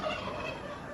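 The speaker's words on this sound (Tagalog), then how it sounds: "Ayan, may mga pabo." Turkeys on a farm gobble in a short, rapid, warbling burst close by, the bubbling calls filling the brief moment with no talk over them.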